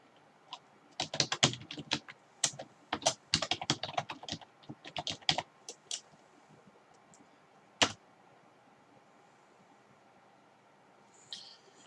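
Rapid bursts of typing on a computer keyboard, close and crisp, in uneven clusters that trail off into quiet with a single heavier keystroke later.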